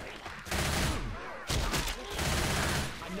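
Gunfire in the Left 4 Dead 2 video game in versus mode, loud rapid bursts of automatic shots in two clusters separated by a brief pause, close and dominating.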